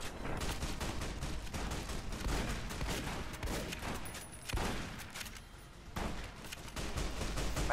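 Rapid gunfire from NCR snipers and other weapons in a Fallout New Vegas battle, dense overlapping shots and bursts rattling continuously at high volume, with a brief lull before the shooting surges again.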